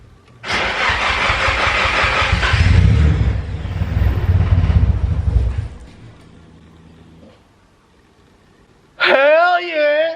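A Nissan S13 with an SR20DET engine cranks, catches and revs hard, then settles toward a low idle and dies away. A burst of high revving comes in at the end. The engine is close, loud and heard alone.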